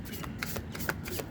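Tarot cards being shuffled by hand, a quick series of soft riffling flicks at an even rhythm, close and moderately quiet with no talking.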